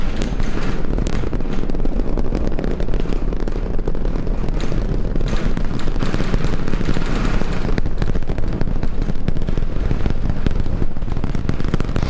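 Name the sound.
SpaceX Starship rocket liftoff roar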